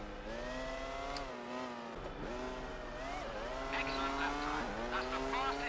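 Formula One 2002 race car engines on PS2, a high whining drone that repeatedly drops and climbs through gear changes, with a squeal of tyres near the end and someone talking over it throughout.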